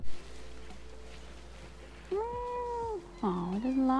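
A cat meows twice nearby, each call long and wavering, over a low steady background hum from an outdoor setting while cycling through Bosnia.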